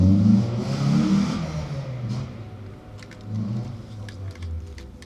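A 1998 VW Caddy engine revs and roars through a normal 2-liter exhaust, rising and falling in bursts, with faint clicks and ticks in the background.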